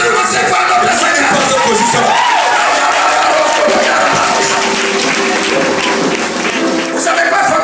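Church congregation applauding during a French-language worship service, a dense, loud, continuous patter of clapping filling the room with voices mixed in.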